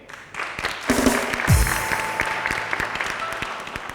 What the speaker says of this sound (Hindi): आप लोग अपनी तालियों से फैसला करेंगे